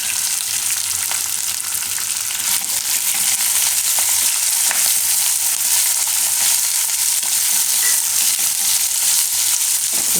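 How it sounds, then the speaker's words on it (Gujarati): Corn kernels fry in hot oil with green chillies and curry leaves for corn upma, a loud, steady, close sizzle with occasional scraping as they are stirred, no voices. "થોડીક વાર મકાઈના દાણાને આમાં ફેરવી લેવું તેલમાં એકાદી મિનિટ માટે"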